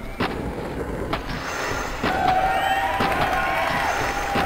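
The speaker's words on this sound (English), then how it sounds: "there's some rather obnoxious crowd noise in this beta" A crowd murmurs and cheers continuously in the School level of a Tony Hawk's Pro Skater PlayStation prototype, with rolling skateboard wheels, grinding, and occasional sharp clacks and slams over the steady roar.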